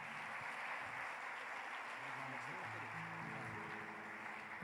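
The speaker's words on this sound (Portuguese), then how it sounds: "Receba pastor André com uma salva de palmas em nome de Jesus" A church congregation applauds in welcome of Pastor André, a faint, steady wash of clapping heard from a distance, with a few voices and musical tones mixed underneath.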